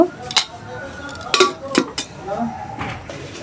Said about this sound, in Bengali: ডালটা এভাবে ঘুটে নিব